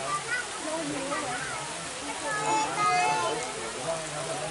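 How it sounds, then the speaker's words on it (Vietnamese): Heavy rain pours at Dai Nam zoo in Vietnam near the elephant area, a steady broadband hiss of water with people talking over it throughout. "Mưa lớn rồi."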